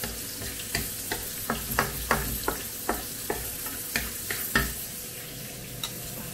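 Ground pork with 20% fat is sautéed for spaghetti sauce, a steady sizzle broken by a dozen or so sharp spatula scrapes and taps against the pan at an uneven rhythm, close and with no talking.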